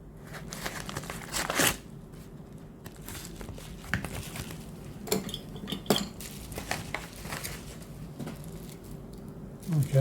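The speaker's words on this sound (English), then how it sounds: "Scissors will do the job there." Scissors cut into a small unboxing package amid crinkling wrapping, with close clinks and scrapes, sharp rustles and crumpling bursts throughout, fairly quiet and without talk.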